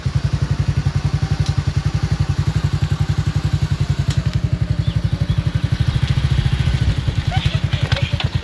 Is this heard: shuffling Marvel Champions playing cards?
no